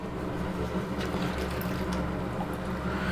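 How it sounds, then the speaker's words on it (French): Sous-vide bags are plunged into a gastronorm tub of iced water to stop the cooking. The water churns and swishes steadily and continuously, close by and fairly faint, with no talking. "on va les plonger dans un bac gastro plein d'eau froide glacée pour couper la cuisson"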